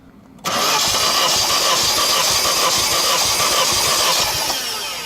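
Vauxhall Corsa VXR engine cranking over loudly and steadily during a compression test, a continuous churning drone starting abruptly and running about four seconds before easing off slightly.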